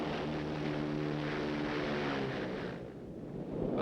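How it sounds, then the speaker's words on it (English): Several C-47 transport planes work a frozen forward landing strip at Hagaru in the Korean War, heard as a steady droning engine and propeller hum with a low tonal buzz that fades slightly near the end, no talk. "A steady stream of planes brings in supplies and takes out wounded and cold weather casualties."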